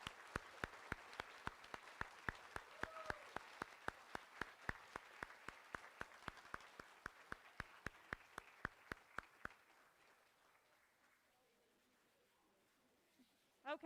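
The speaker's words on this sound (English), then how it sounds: "If you could all give him one huge round of applause." Audience applause at a middle school awards ceremony, many sharp regularly spaced claps in a steady rhythm that fade out after about nine seconds into near silence.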